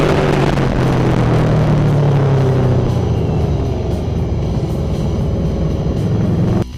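2009 Star VMax motorcycle with a roughly 200-horsepower liquid-cooled double-overhead-cam engine and shaft drive, a loud close rumbling roar that rises and then settles into a deep steady drone before cutting off abruptly.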